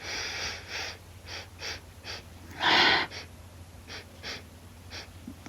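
Repeated short sniffs at a tub of Body Shop British Rose body butter, close to the microphone, with one longer, deeper inhale in the middle and quiet pauses between the breaths.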